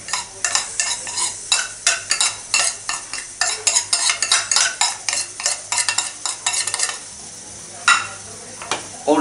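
Ground spices such as cumin powder and turmeric stirred into a sizzling pan for Amritsari pindi chole, a spoon scraping in quick rhythmic strokes over a soft fry, close and fairly loud.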